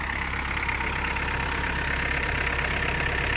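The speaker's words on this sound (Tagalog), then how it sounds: "Pajero 4M40 engine" A Mitsubishi Pajero 4M40 diesel engine, suffering an overheating problem, idles with a steady low rumble and a fine rapid knock, heard up close and continuous with no voices.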